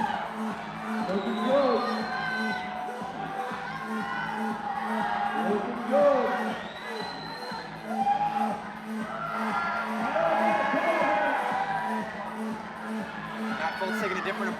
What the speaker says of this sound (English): The crowd is getting psyched